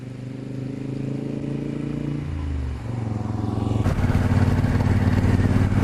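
A 1972 Moto Guzzi Eldorado motorcycle rumbles along, with a shift in engine tone partway through, then revs up louder and stays near with a strong, steady drone.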